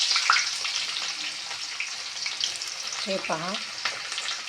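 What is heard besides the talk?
onion frying in oil with garlic in a pan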